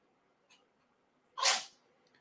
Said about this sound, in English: He announces his presence with sneezes.